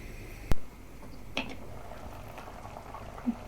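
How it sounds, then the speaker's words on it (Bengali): Chopped pieces of elephant apple (chalta) boiling in a pot of water, giving a soft, steady bubbling hiss with an occasional sharp knock or clink close by. "ভালো করে ধুয়ে এখন আমি চালটা সিদ্ধয় বসিয়ে দিলাম।"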